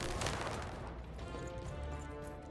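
A gunshot goes off in the video game Lost in Random: a loud blast at the start, then a rumbling tail that fades over the following seconds.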